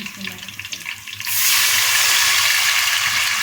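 Water poured into a hot cooking pot of sizzling cumin seeds for a Punjabi black chickpea dish, a loud, steady sizzle and hiss that jumps up midway and holds to the end.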